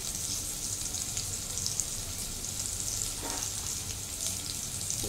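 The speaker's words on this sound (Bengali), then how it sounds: "এটা ভালো করে ভেজে নেব।" A hilsa fish head seasoned with salt and turmeric fries in oil, making a dense, steady close-up sizzle with small crackles and a faint stir partway through, no voices.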